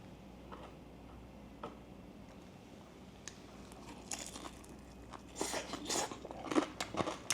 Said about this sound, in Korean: 치킨 먹어보겠습니다.